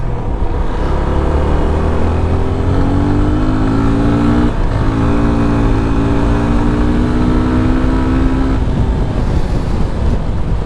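A Yamaha FZ25 BS4 naked motorcycle accelerating on the street, its engine rising steadily in pitch through the gears under constant wind buffeting, loud and close throughout with no talking.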